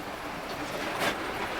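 Märklin model trains running on a home layout, a steady low rumble and whir of wheels on track with a faint brief rise of rolling noise, no voices.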